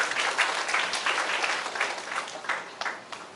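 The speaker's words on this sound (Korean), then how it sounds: "박수 치죠." A conference audience claps together in a sustained, steady round of applause, with dense overlapping hand claps at moderate volume and no talk over it.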